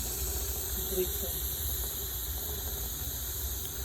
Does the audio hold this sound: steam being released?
yes